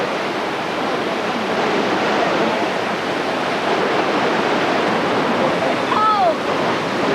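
Water rushes steadily at the head of the Jordan River on Kibbutz Tel Dan, below the Golan Heights: a dense, even, close roar throughout, with a brief high whistle-like call near the end.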